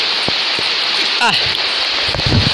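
Steady, dense hiss of heavy rain pours throughout, with a few faint clicks and a brief chirp-like sweep in the middle.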